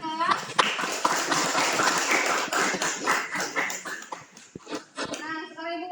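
A classroom group claps briefly and unevenly, the claps mixed with loud overlapping voices and children's chatter, with an adult voice speaking near the end.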